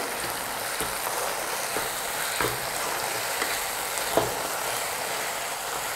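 Chilli paneer frying in a pan while being stirred, a steady dense sizzle with occasional soft scrapes and knocks of the spoon, close and even throughout.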